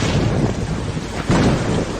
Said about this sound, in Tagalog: Kumukulog sa gabi, natatakot ako.